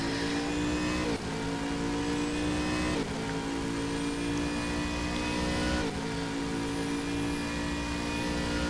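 GT3 race car engine in the Stock Car Extreme video game at the Red Bull Ring, a continuous loud high-pitched engine note with a few sharp shifts as gears change, other cars nearby, no talking.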